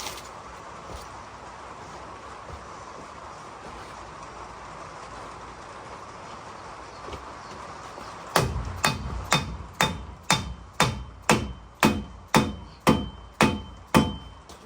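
Steady mechanical background hum, then a regular series of loud, ringing metal hammer strikes, about one per half second, close by.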